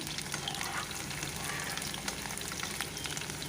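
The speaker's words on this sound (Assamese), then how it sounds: "এতিয়া পিঁয়াজখিনি অলপ ভাজি ল'ম।" Onions sizzle in hot mustard oil in a wok, a steady close frying hiss with light scraping and crackle running throughout.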